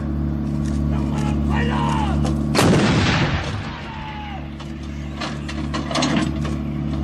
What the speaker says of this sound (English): Watch the rapid functioning of the automatic loading system. The gun will now fire 3 rounds in area diamond.